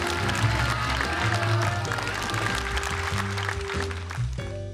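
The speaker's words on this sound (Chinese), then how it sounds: "我们所有朋友再给他们掌声" A studio audience at a stand-up comedy competition applauds the departing comedians. The clapping is steady and moderately loud, blended with stage music and a voice speaking over it.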